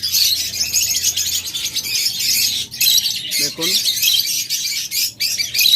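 Lovebirds and budgerigars chirping and squawking in a dense, busy chorus at close range, with someone speaking over the birds throughout.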